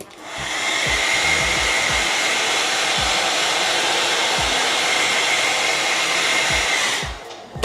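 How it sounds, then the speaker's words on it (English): A hair dryer standing in as a heat gun blows steadily on a vinyl stencil while customizing Jordan 1 sneakers, a loud continuous whooshing roar for several seconds with faint handling knocks, then switching off. "I take my heat gun, which is actually just a hairdryer."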